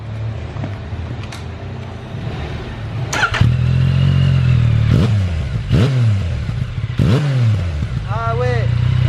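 A Yamaha Niken three-wheeled motorcycle fitted with an Akrapovic exhaust idles loudly close by and gets several sharp throttle blips that rise and fall, with a voice speaking briefly over it.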